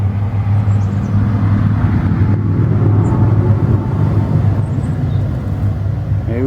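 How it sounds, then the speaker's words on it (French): A tractor passes in the countryside, its heavy engine rumbling steadily close by, a low droning motor sound that holds for several seconds without a break. "Ah, un tracteur."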